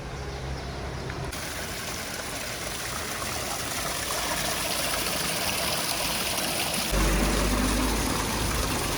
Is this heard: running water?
yes